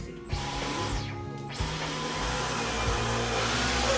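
A Dyson V15 Detect Total Clean cordless vacuum cleaner runs steadily and close, a loud continuous motor whine and airflow roar with a couple of brief pitch dips as it moves, no talking.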